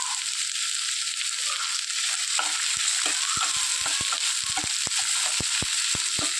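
Steady, close sizzle of onions sautéing in hot oil in a pan, with a run of short scraping and tapping strokes from stirring across the second half.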